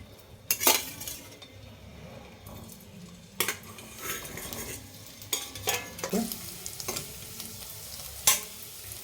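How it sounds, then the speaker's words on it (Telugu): Baby potatoes frying in hot oil in a wok, a low sizzle broken by sharp metal spatula clinks and scrapes against the pan at irregular intervals. "మూకుడు వేడి చేసి నూనె వేసి నూనె మూకుడు అంతా పట్టేలాగా ఓసారి తిప్పుకుని పొటాటో ఇందులో వేసుకుందాం"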